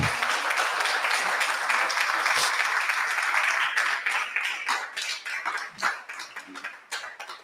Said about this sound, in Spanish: denle un aplauso al Señor antes de orar